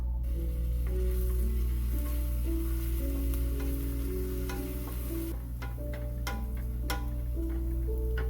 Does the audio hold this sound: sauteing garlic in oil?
yes